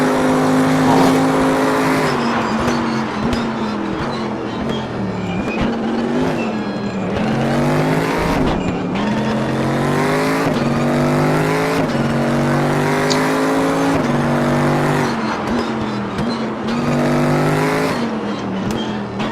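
Race car engine in RaceRoom Racing Experience, revving loud and continuous with rising and falling pitch through gear changes, close and alone with no talk.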